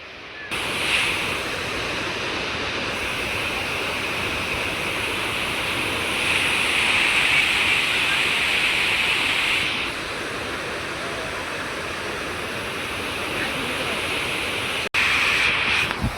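A continuous heavy roar of water rushing through the five open gates of the overflowing Shetrunji Dam at Palitana, loud and unbroken, with wind buffeting the microphone and no speech.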